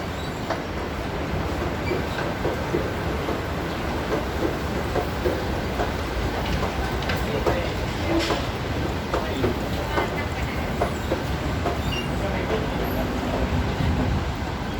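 An electric sky train passes near a shopping mall in Bangkok, its steady rolling rumble and rail clatter running continuously for the whole stretch, loud and close.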